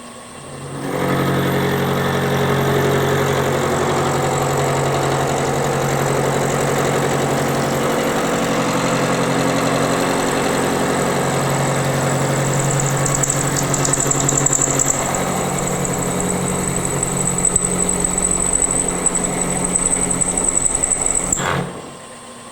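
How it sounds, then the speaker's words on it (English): A coated 3/4-inch high-speed steel cutter machines a cast iron back plate on a lathe without lubricant, giving a steady loud mechanical whir and hum with a high whine, running continuously for about twenty seconds before stopping. "It's a high-speed steel cutter, and it's coated, and it's 3/4 diameter."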